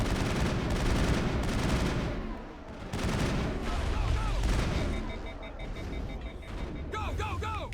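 Heavy gunfire in Mass Effect 1 comes as loud bursts and booming volleys, with synthetic whistling effects and voices mixed in.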